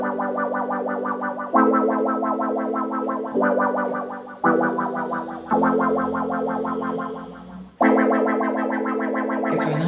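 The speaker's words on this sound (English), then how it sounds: "Now the next you have auto wah. Now this auto wah is it gives you a nice 70s sound." A Boss MD-200 modulation pedal on its auto wah setting, hooked to an Amiga, turns synth chords into a sweeping, funky 70s disco texture with distortion; phrases restart in loud bursts over ten seconds, with no talking.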